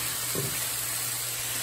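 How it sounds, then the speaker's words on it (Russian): Eggplant frying in oil in a pan gives a loud, steady, close sizzle and hiss that runs unbroken, with a faint stirring clatter near the start. "Баклажаны потихоньку греются. Так быстро баклажаны в масло себе впитывают."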